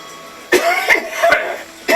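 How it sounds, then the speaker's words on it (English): A person coughing indoors, with a few harsh, bursting coughs spread over two seconds, close to the listener and alone, with no talk around them. "This cough drives you mad"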